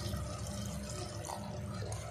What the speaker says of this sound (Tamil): இப்போ கறி மூழ்கிற அளவுக்கு நம்ம தண்ணி சேர்த்துக்கலாம்.